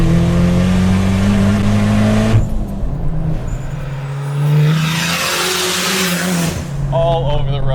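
A 500HP Dodge Caliber accelerates hard with engine revs climbing through the gears, a shift break and a whooshing turbo burst, loud and close inside the car with some talking over it.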